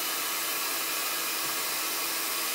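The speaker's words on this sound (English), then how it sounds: "heat gun here, turned it down to its minimum to start off with." Heat gun running on its minimum setting, a steady airy hiss with a whining fan tone that stays constant and close throughout without any change or pause.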